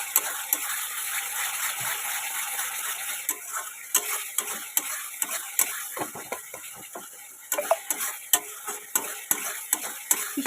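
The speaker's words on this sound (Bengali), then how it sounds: "এবার এটাকে ভালো করে আমরা কষিয়ে নেব" Spice paste for a cabbage and egg curry being stir-fried in oil, with steady sizzling and a run of quick spoon scrapes and taps against the pan. A voice speaks faintly underneath.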